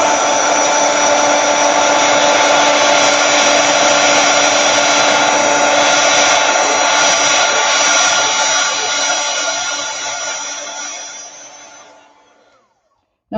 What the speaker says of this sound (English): Let's use the heat gun.